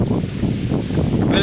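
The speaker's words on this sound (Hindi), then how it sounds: "बड़ी बूंदें जो है वो पड़नी शुरू हो गई हैं और तेज़ हवाएं भी खूब चल रही हैं" Strong monsoon wind gusts roar and buffet the microphone as large raindrops begin to fall, a dense, continuous rushing noise with low rumble throughout, loud and close.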